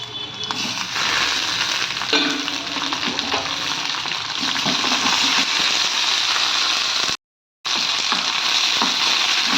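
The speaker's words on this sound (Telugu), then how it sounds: "ఇప్పుడు దీంట్లోకి నేను పచ్చి టమాటా వేస్తానండి." Raw tomatoes and tamarind fry in a hot pan with a loud, steady sizzle and crackle, brief stirring scrapes breaking through, and a short moment of silence near the end before the sizzling resumes.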